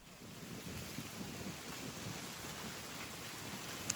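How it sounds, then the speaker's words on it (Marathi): Steady wind blowing through an outdoor garden, a continuous broadband rush with low gusty rumble and no voices. "खूप सुंदर अशी हवा सुटलेली आहे"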